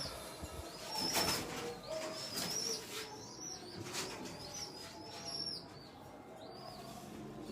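Golden pigeons in a breeding setup, soft repeated cooing and scattered chirps from several birds amid a noisy aviary background, with occasional wing rustles.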